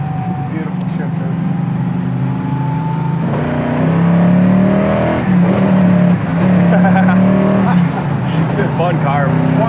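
1973 Camaro Z28 with a manual transmission shifting down from third to second and accelerating, a loud, close engine note that rises in pitch with revs. Someone talks over it.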